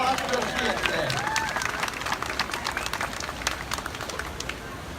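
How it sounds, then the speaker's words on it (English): An audience applauds the cast of a 50th anniversary show at Six Flags Over Georgia, with dense clapping and scattered cheers and whoops over crowd murmur, steady throughout. "So how about a round of applause for the cast of Can't Stop the Feeling, our 50th anniversary show."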